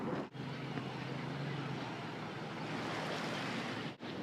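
Broadband wash of Pacific Ocean surf at a beach on a November evening, a steady continuous roar with brief dips, likely mixed with wind on the microphone.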